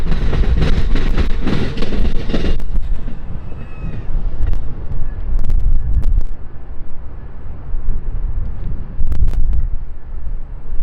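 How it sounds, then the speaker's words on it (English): Amtrak train 391, the Saluki, with an SC-44 locomotive and seven Superliner cars, sliding past a Chicago interlocking tower: loud rumbling and clattering wheels with wind buffeting, fading to a lower rolling rumble. "we see Amtrak train 391, the Saluki, sliding past the tower with a consist of an SC-44 and 7"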